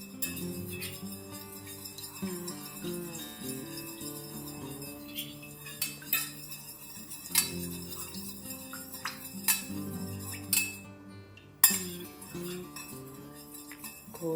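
Soft clinks and scrapes of a utensil stirring black dye into melted candle wax in a container for a whipped wax dessert candle, faint and continuous under quiet background music.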